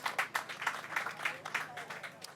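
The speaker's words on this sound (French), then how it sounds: "On peut encore une fois leur faire une petite salve d'applaudissements" An audience at a local investment awards ceremony in Bourges gives a round of applause, steady rhythmic clapping at moderate distance that continues throughout.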